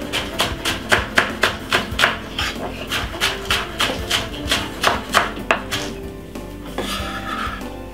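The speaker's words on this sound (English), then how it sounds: "Cut up the spring onion really finely." A knife chops spring onion finely on a board, with rapid, evenly spaced taps, loud and close, that slow and fade toward the end.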